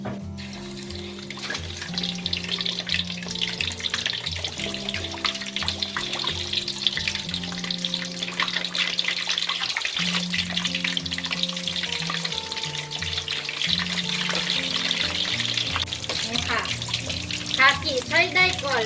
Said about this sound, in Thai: น้ำมันร้อนแล้วให้ใส่ขาหมูลงไปเลยค่ะ